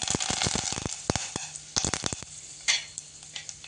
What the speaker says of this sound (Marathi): हिंग, हळद, कढीपत्त्याची पानं घालते आहे